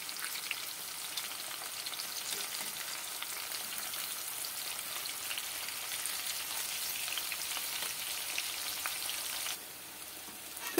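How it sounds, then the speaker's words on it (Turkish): Eggplant slices fry in oil in a pan, giving a steady, dense sizzle that stays even and close throughout, with no voices. "şöyle çeviriyoruz ve kızartıyoruz."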